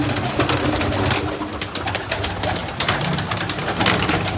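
Many pigeons coo continuously in a dense, throaty chorus, close by, with rustling and fluttering mixed in.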